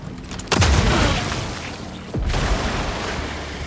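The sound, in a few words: poison enemies exploding in the video game Mortal Shell 2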